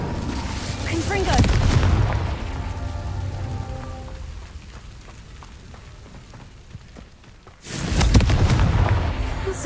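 A Confringo spell goes off in Hogwarts Legacy with two heavy booming blasts, one at the start and one near the end, separated by a quieter stretch of crackling ambience and game effects.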